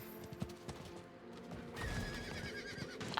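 A horse in Diablo IV neighs loudly over a busy game soundscape, with hoof clip-clops and a rising whinny near the middle of the stretch.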